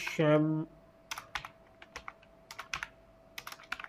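Typing a search word on a computer keyboard, a series of light, irregular key clicks close by after a brief tonal sound at the start, with no talking.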